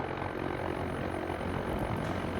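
Zenith STOL CH 750 "Sky Jeep" light aircraft taxiing, its propeller engine droning steadily and loudly close by throughout, with no gaps.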